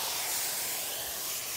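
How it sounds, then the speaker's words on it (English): Pork sizzles in a hot pan with a steady, close, bright hiss that holds evenly throughout. "You can hear that sizzle."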